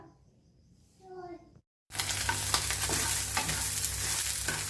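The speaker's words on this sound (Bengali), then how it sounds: "সয়াবিন ভাজা চলছে" Soybean chunks fry for chow in a pan, a steady close sizzle with stirring scrapes that starts abruptly after a short stretch of faint background speech, then continues loud and even.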